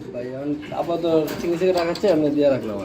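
Pigeons coo at a farm with soft, repeated throaty calls close by, mixed with people talking.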